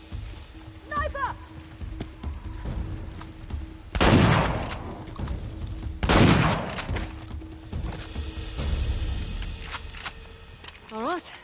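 Sniper rifle shots in Uncharted: The Lost Legacy ring out as two loud, sharp blasts a couple of seconds apart, each with a rumbling tail, amid scattered distant gunfire and game voices.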